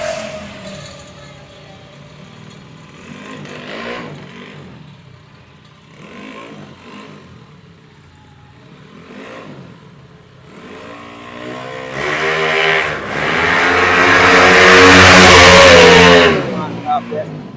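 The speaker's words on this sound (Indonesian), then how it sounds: "Nah, ini kita cobain motornya" A Honda Beat motorcycle used for road racing revs up in bursts: several short throttle blips early on, then a long, loud rising rev near the end, with voices speaking around it.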